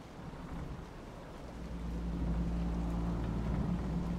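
Stormy weather in Dragon Age: Inquisition's The Descent, a steady low rumble of rain and distant thunder that swells louder after the first couple of seconds, with no voices.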